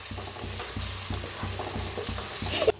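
Onion and tomato sizzle and fry together in a pan, a steady crackle with rhythmic stirring scrapes repeating about every third of a second, and no talking.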